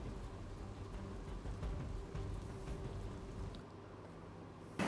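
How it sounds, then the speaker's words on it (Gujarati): Heavy monsoon rain pours down in Bardoli, Surat district, Gujarat, a dense, steady broadband hiss that holds for the whole stretch with no voices, easing slightly near the end. "દક્ષિણ ગુજરાત સહિત સુરત જિલ્લામાં ધોધમાર વરસાદ વરસી રહ્યો છે"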